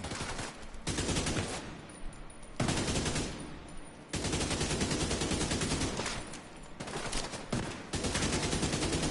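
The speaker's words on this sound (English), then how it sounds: "let me just see if I can shoot them with" Dense, sustained gunfire from a firefight against enemies in The Division 2, loud bursts of automatic fire repeating across the whole stretch with only brief lulls, no talking.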